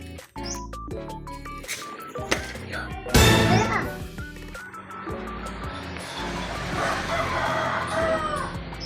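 A rooster in Nueva Ecija, Philippines crows loudly and near, with clucking and a few thunks around it against an outdoor background.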